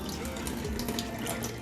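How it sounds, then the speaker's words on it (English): Running tap water pours steadily into a sink as vegetables are rinsed in a home kitchen while a Jamaican curry mutton is prepared, a continuous close splashing hiss with no talk. "Always have to wash your vegetables because you don't know where they come from."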